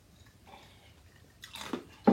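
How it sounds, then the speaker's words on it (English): Someone crunches and chews ice in a few quiet bites that build to a louder crunch at the end, close to the mouth, with no talking. "Don't chew ice. You should never chew ice."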